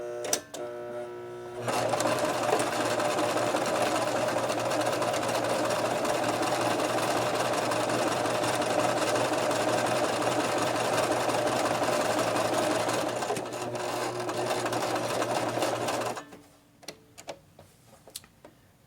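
A sewing machine stitching fabric with a steady, fast mechanical whir and ticking that runs loud and continuous for about fourteen seconds, then stops and leaves a quiet room with faint small clicks.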